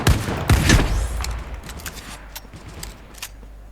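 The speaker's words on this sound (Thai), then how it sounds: "สไนอะไรมันเบาจังวะเฮ้ย ไม่แน่ใจว่านี่คือสไนนะสาบานว่านี่คือสไน" Sniper rifle fire in a video game: two sharp, loud shots crack near the start, followed by a string of fainter, scattered distant reports over a steady low background rumble, with no talk.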